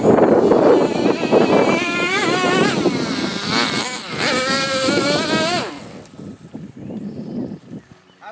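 A small 0.15 nitro engine in a heavy Traxxas T-Maxx RC truck screams loudly, rising and falling in pitch through several revving runs before dropping away to a faint, quieter idle.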